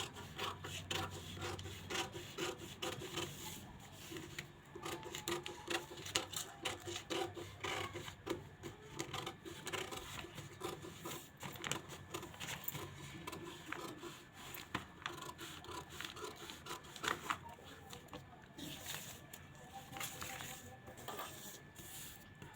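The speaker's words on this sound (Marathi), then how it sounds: "कटिंग करताना आता हा इकडचा भाग कट करायचा" Scissors cut blouse fabric along marked lines during tailoring, giving a faint, continuous rasping and rubbing with small snips, close up and steady throughout.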